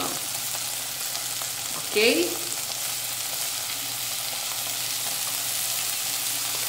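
Onion and garlic fry in a pan with a constant loud sizzling hiss and a brief stir-like scrape partway through, while a voice briefly speaks once.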